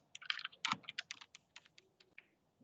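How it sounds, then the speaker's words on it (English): Fingers tap out a short word on a computer keyboard, a quick irregular burst of crisp, close keystrokes that thins out toward the end, in an otherwise quiet room with no talking. "I'll try to type a word."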